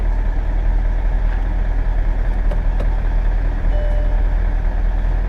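A 2001 Mercedes S600 engine runs at a steady idle, a loud, continuous low rumble heard up close with no voices.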